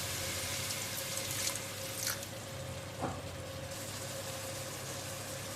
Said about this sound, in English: I'm going to add in a little bit more water.